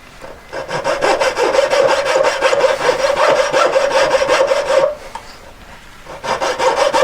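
A jeweller's saw fitted with its blade reversed cuts through a set of metal jump rings in fast, loud rasping strokes, a steady run of back-and-forth sawing that stops briefly before resuming close up.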